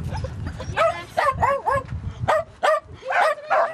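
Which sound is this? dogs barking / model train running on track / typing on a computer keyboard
dogs barking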